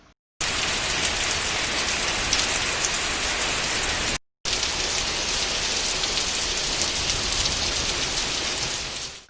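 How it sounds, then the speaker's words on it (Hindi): Heavy rain pours down across the city in a dense, loud, steady hiss of drops hitting surfaces, interrupted once by a brief cut before continuing unchanged. "शहर में हुई जोरदार बारिश ने आज लोगों को उमस और गर्मी से राहत दिलाई।"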